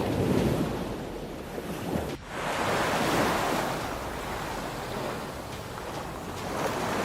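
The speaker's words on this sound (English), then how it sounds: "Waves explode into froth and the roar of the water mixes with the deep calls of the sperm whale" Ocean surf churns into froth in a continuous broadband roar, loud and close, with wind buffeting and a brief dip before the wash surges on steadily; no voices.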